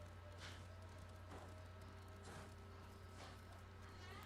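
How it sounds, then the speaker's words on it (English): Slow, evenly spaced video game horse hoof thuds, about four steps over a steady low hum, like a tired horse plodding at a walk. "This horse sounds quite tired."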